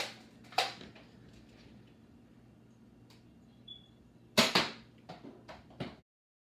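Nerf StrongArm dart blaster fired a few times: soft, hollow pops and clicks of priming and release, fairly quiet, with a small burst of quick snaps near the end over a faint background hum.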